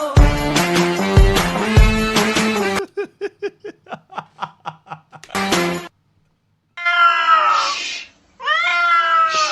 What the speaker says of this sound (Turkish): Islatırım bak seni kedi. Bağırma bana.